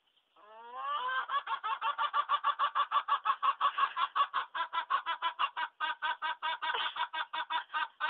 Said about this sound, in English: The laughing chicken. Laugh for me?